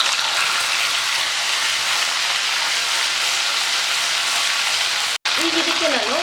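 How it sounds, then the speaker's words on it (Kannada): Green chillies and ginger-garlic frying in hot oil, a steady loud sizzle and hiss throughout, briefly cut, with a voice speaking at the end. "ಒಂದು 2 ನಿಮಿಷ ಇದನ್ನು ಎಣ್ಣೆಯಲ್ಲಿ ಫ್ರೈ ಆಗೋದಕ್ಕೆ ಬಿಡಿ।"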